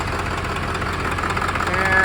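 A Ford 7.3L diesel engine running rough and slow to respond with the pedal floored, a steady, dense mid-range drone holding close and constant, rising slightly near the end.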